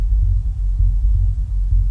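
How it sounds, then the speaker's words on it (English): Deep sub bass from a music production mix throbs in slow, regular pulses like a heartbeat, loud and heavy for about two seconds with no other sound on top. "Oh, that is like a heartbeat."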